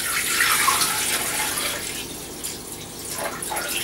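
Water pours steadily into a Thermomix TM31 bowl for making jelly, a continuous close splashing stream with no talk.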